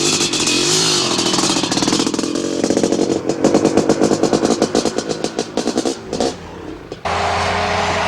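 A brand new Honda 500 racing motorcycle at a raceway, its engine close and loud, revving in rapid choppy bursts before a brief gap and a steady roar again.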